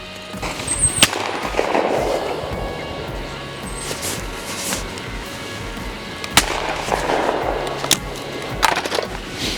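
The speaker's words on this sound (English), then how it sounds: "Wait till it turns and shoot it just as it starts coming down." Shotgun fire at sporting clays targets, a few sharp isolated blasts spaced several seconds apart over steady outdoor background noise, with no talking.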